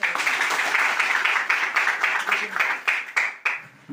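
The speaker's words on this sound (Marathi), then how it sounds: "टाळ्या वाजवायच्या" Wedding guests clapping their hands together in a lively burst of applause that continues steadily, then thins into scattered claps before fading, with voices mixed in.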